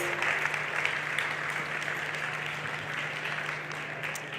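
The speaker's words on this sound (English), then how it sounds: "let's have a huge round of applause for all our 6 finalists" Steady crowd applause for six finalists at a fashion design competition, dense and sustained clapping from a large audience, fairly loud throughout with a faint hum underneath.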